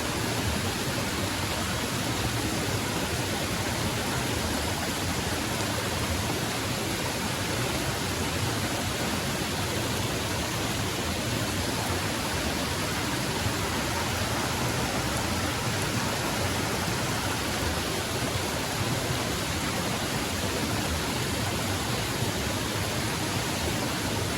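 Heavy rain and loud rushing water pour down steadily and evenly throughout, a dense broadband wash with no breaks and no voices.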